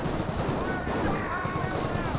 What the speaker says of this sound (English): I've seen quite a bit of fire there from the Bren gun